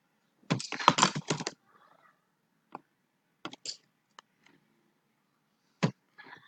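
Bursts of clicky typing on a computer keyboard, a quick flurry of keystrokes followed by scattered single taps and short pauses, close and fairly quiet.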